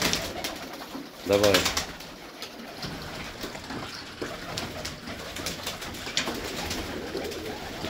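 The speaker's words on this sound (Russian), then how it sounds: "Чувствую, начнется сейчас проблемы с этими голубями." Pigeons coo with a short burst of wingbeats or calls near the start, then softer cooing and rustling continue while someone talks repeatedly over them at close range.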